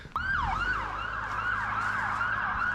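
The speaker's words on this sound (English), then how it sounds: "Ambulance." An ambulance siren wails nearby in a steady, rhythmic rising and falling sweep, loud and continuous after a sudden start.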